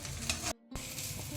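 Egg pulao rice being stirred in a pan after lemon juice is added, with a steady close scraping and sizzling that drops out briefly midway before resuming.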